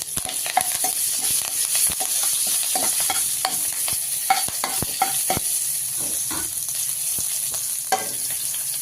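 Curry leaves frying in a pan for a homemade coriander chutney, giving a steady close sizzle broken by frequent sharp clicks and scrapes of stirring, with no voices.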